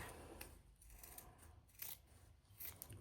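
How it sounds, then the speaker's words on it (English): Scissors trimming the fabric edges of a zipper panel, several quiet, close snips in an uneven rhythm with no talking. "I'm going to trim these edges even with the edge of my zipper panel so that it's perfectly straight and flush"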